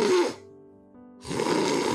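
A human voice imitates snoring, showing a sleeper whose tongue falls back and blocks the airway: one short, rough snore that breaks off abruptly, heard alone and close.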